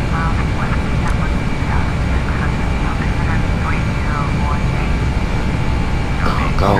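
Steady, loud simulated engine roar of an Airbus airliner climbing after takeoff from Gatwick in Flight Simulator X, a continuous drone with radio chatter and beeps faintly over it.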